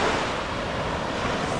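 Steady roar of surf and wind at Cha-am beach in Thailand, a continuous broadband wash of breaking waves with wind rumble on the microphone, loud and unbroken throughout.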